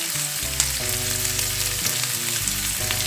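Green asparagus sizzles in a covered pan beside fried sausages in a German village kitchen, a steady close frying hiss with bursts of spitting, under a low droning hum that shifts in pitch.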